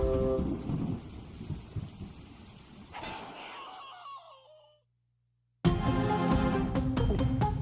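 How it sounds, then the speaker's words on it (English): Heavy rain and rolling thunder: a dense downpour with a deep rumble fades away into silence, then a loud burst of rain cuts back in abruptly. "And the rains continue to beat us."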